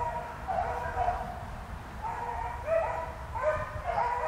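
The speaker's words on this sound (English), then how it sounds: "I hear a squeal, a light squeal voice in there." Beagles on a hunt giving light, high squealing yelps in a few short bursts, moderately distant over steady outdoor background noise.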